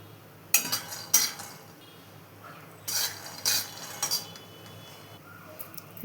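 Peanuts dry-roasting in a heated pan give off sharp, scattered clinks and rattles in a few short bursts against a quiet background.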